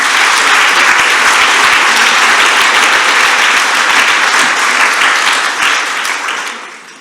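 Audience applause at the official opening of a Women For Future Mediterranean event, a dense, steady wash of many hands clapping close and loud before fading out over the final second.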